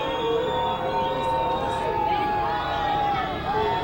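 An outdoor crowd outside the Perugia courthouse jeers and boos steadily, with drawn-out vocal tones and a babble of shouting voices forming a continuous, fairly distant din.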